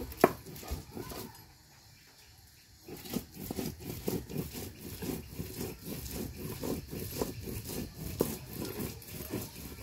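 Dried fish being crushed on a traditional stone grinding slab, a rhythmic series of dull thuds and scraping strokes, close and moderately loud, briefly pausing before the grinding resumes steadily.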